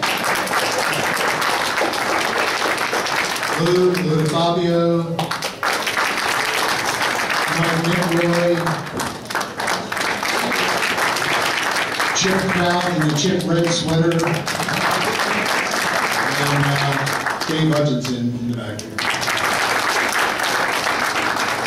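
A holiday party audience applauds former directors with sustained clapping and cheering that runs underneath someone speaking over a microphone throughout.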